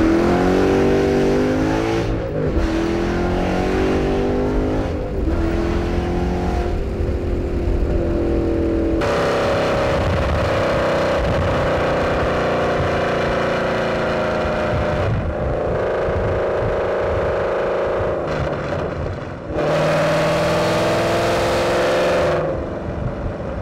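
Ford Mustang GT V8 exhaust pulling hard in first gear, loud and close, with a rising engine note that swells in steady surges and drops briefly between pulls, no talking.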